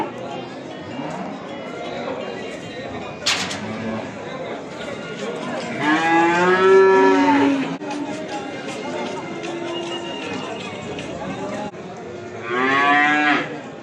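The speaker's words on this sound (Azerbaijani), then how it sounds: "bax belə bordağa gedən danalardır" Calves being sold for fattening at a livestock market in Beylagan, mooing repeatedly, with two loud, drawn-out moos standing out over a steady background of market chatter and crowd noise.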